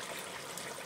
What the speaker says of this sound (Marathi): पाणी सोडून घेऊ.